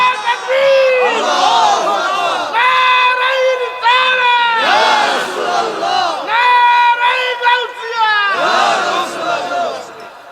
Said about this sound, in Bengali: হাত উঁচা করে বলেন আল্লাহু আকবার।